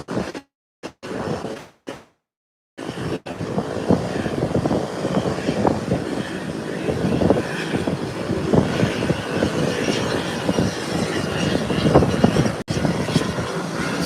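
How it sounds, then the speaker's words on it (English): An American airliner rolls along the runway toward the threshold at Howard Hamilton International Airport in the Turks and Caicos, its engine roar a steady broadband rumble mixed with wind buffeting on the microphone, with a few brief dropouts near the start. "Whilst the first American is now on the runway heading to the threshold."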